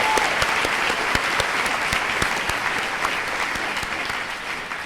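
Celebration audience applauds award winners with dense, continuous clapping from many hands, steady and fairly loud throughout, slowly tapering toward the end.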